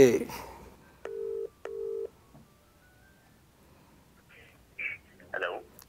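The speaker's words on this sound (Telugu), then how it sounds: "ప్రొడ్యూసర్ మధు గారికి కాల్ చేసి కనుక్కుందాం" Telephone dialing tones as a call is placed from a studio: two matching steady beeps in a row, each about half a second, then a few softer tones, with brief voices before and after.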